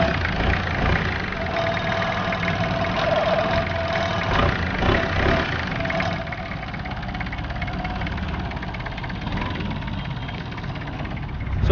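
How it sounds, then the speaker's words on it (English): A longtail boat's big engine runs steadily in Krabi with a continuous droning, slightly knocking rumble, close and fairly loud, easing a little partway through. "So at Krabi, this is the famous longtail boat. Got big engines and a rotor at the end of it."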